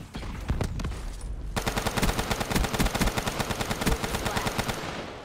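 Gunfire in a multiplayer shooter where an opponent tries to shotgun the player: a fast, steady string of sharp, loud shots follows a few scattered blasts, with no talking.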